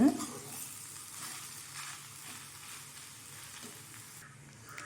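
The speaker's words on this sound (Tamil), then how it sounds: "இப்போது ரைஸ் சேர்த்ததுக்கப்புறம் நல்லா கிண்டி விடுங்க" Carrot rice is stirred in a frying pan, giving a soft, low sizzle with light scraping strokes that runs through the clip at a quiet level.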